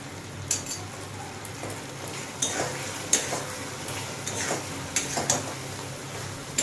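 A spoon stirs apple pickle in a pan with roasted ground cumin, coriander and dried chili, giving soft scraping strokes and faint sizzling, close and irregular against a low cooking hiss.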